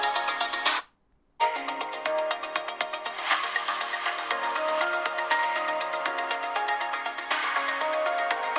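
A ringtone melody plays from the loudspeakers of a Xiaomi 12 Pro phone, loud and steady with repeating chime-like notes, briefly cutting out near the start before resuming; no one speaks.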